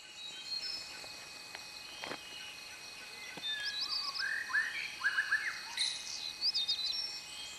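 Small birds chirp and call outdoors during nesting season while a female builds a nest. Short bright tweets and trills come in scattered bursts over a faint insect hum.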